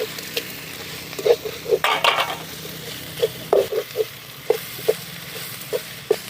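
Chopped tomato, salt and dried red chillies sauté in a pan for a drumstick podimas, a steady sizzle broken by rhythmic spoon scrapes and clinks against the pan, close and clear with no talk.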